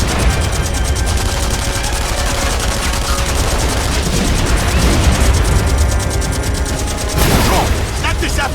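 Rapid gunfire rattles continuously in The Saboteur video game, dense bursts layered with battle noise and a sharp burst near the end, loud and close.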